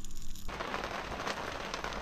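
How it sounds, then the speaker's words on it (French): Steady, moderate rain falls outdoors at a dry-dock boat port in a heatwave, a dense even patter of drops that starts suddenly after a brief quieter moment. "voilà la pluie tant attendue. Une vraie pluie, hein, pas une pluie diluvienne."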